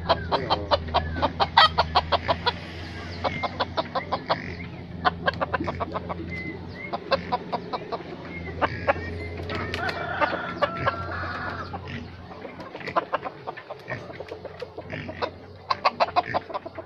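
A decoy rooster clucks in repeated bursts of sharp, close calls, loud and rhythmic, pausing now and then before resuming, with no talk.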